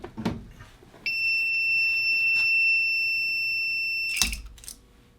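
A Primer Sentry alarm on a progressive reloading press sounds a steady, piercing electronic tone for about three seconds, bracketed by clicks and handling noises before it cuts off.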